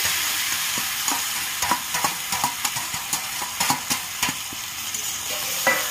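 Egg chowmein noodles with vegetables are stir-fried in a pan, a constant sizzle broken by repeated scraping and tossing strokes from a spatula at a close, even rhythm.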